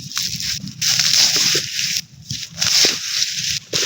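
Water sloshing and splashing as plants are watered, a loud, close, continuous gush with brief breaks where the flow stops and restarts.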